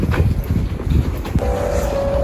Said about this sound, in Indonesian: Ini mau naik kereta supaya rutenya lebih cepat